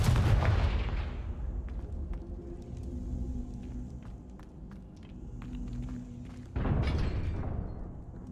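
Confringo blasting spells explode in Hogwarts Legacy, two deep booming blasts several seconds apart with long rumbling tails, scattered sharp crackles and thuds between them.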